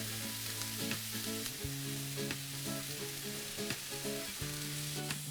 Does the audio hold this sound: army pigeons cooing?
no